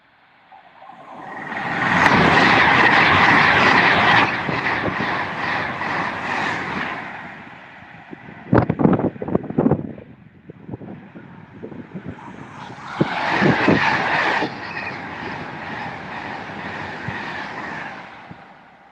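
A train races past at full speed on the West Coast main line seen from a bridge at Acton, a loud roaring rush that swells, breaks into rattling clatter of wheels over joints, then surges again before fading.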